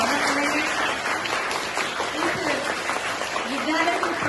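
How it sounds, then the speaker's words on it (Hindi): An audience at a school honoring ceremony claps steadily to welcome a guest, a continuous wash of applause with a voice speaking over it throughout. "एक बार जोरदार तालियों से स्वागत करेंगे।"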